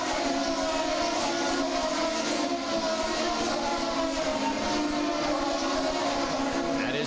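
IndyCar race cars at Mid-Ohio accelerate on a green-flag restart, a dense, steady roar of many engines at full throttle that persists throughout without pause.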